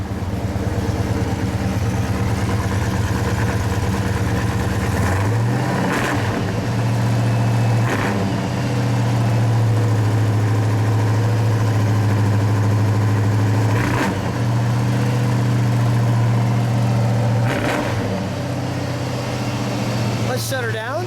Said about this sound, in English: Let me get the exhaust note.